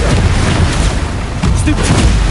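Repeated Confringo blasting spells going off in Hogwarts Legacy on PS4, a dense, continuous barrage of booming explosions and rumbling impacts that stays loud throughout, with game chatter mixed underneath.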